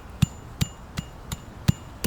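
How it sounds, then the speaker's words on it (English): Hammer pounding the ground around a buried coyote trap frame: six sharp, evenly spaced thuds outdoors, close and fairly loud, with no talking. "I'm just going to take my hammer and kind of pound this ground around it"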